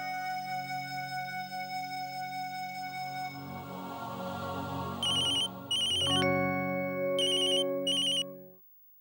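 A telephone rings out on an outgoing call, a repeating melodic ringtone that plays steadily for several seconds with brief pulsed bursts near the end, clear and alone with no talking.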